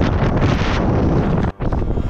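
Loud, roaring wind buffets the microphone almost continuously on an uphill stretch, with a brief drop in the gust near the end.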